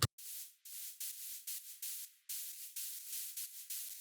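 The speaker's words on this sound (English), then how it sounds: "I added a noise lead that's literally just white noise playing the same exact rhythm" Bursts of bright white noise pulse in a steady, repeating rhythm, short hissing hits separated by brief gaps, loud and alone.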